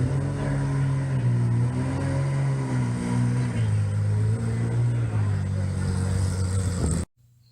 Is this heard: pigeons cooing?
no